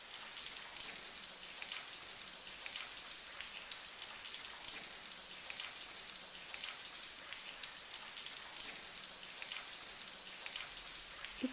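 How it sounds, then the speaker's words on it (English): Afternoon rain falls outside a guest house, a soft, steady patter of drops on surfaces with faint brighter splashes scattered throughout, quiet and continuous with no voices. "you will probably not complain much about the weather in a rainy afternoon"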